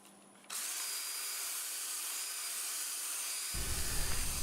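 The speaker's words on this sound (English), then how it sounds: "So I'm going to switch over to 600 grit now." A power sander runs a 600 grit sandpaper pad with a steady, close, high whirring drone that starts suddenly and roughens near the end as the pad bites into the surface, with no voices.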